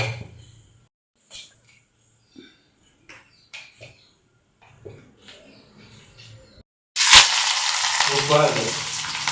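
Mutton suvarotti hits hot oil with a sudden loud sizzle that keeps frying steadily, preceded by several seconds of quiet kitchen clicks and handling noises.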